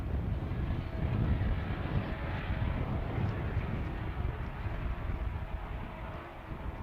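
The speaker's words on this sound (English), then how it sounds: "And that boat sounding absolutely beautiful." A loud, steady engine roar, dense and continuous throughout, from an offshore racing powerboat running at speed nearby during an offshore superboat race.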